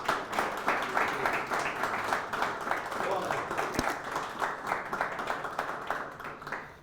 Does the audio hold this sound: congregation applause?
yes